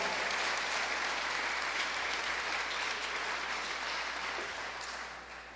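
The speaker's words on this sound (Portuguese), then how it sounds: "Você pode aplaudir mais uma vez o nome de Jesus?" A church congregation claps together in sustained, dense applause that holds steady for several seconds before tapering off at the end.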